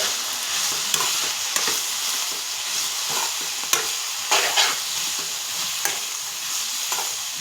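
Broad bean pieces frying in a pan, salted and being mixed, make a continuous close sizzle, with repeated spatula scrapes and taps as they are stirred throughout.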